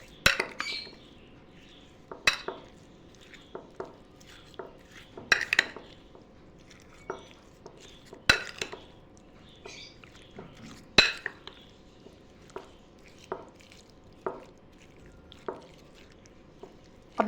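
A spoon stirs fried onions and dried fenugreek leaves in a pot, making sharp metallic clinks and scrapes at irregular intervals over a quiet background.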